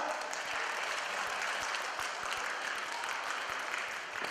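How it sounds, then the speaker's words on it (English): An audience claps together, a dense and even burst of applause lasting a few seconds, moderately loud with a few sharper individual claps standing out. "Give yourselves a clap."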